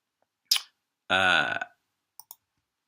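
Computer mouse clicks during on-screen note editing software use: one crisp click near the start, then a brief voiced burst, followed by two quick faint clicks close together near the end, in an otherwise quiet setting.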